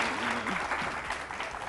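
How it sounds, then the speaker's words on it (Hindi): Brief burst of studio audience applause on a morning television show, steady clapping with a voice briefly audible at the start. "तालियां कायनात के लिए।"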